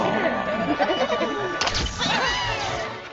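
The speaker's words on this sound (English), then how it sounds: "It's officially Christmas, thanks to Shaun the Sheep and his friends for turning on the lights here on BBC" Bleating sheep from the BBC Christmas ident with Shaun the Sheep and his friends switching on the lights, repeated wavering calls over a busy, music-like background.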